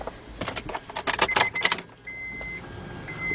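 Car keys jangle and clink in quick, close metallic bursts inside a 2003 Honda Pilot, followed by a steady electronic chime tone once the jingling stops.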